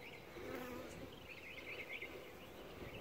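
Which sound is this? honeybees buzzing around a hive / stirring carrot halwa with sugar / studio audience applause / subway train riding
honeybees buzzing around a hive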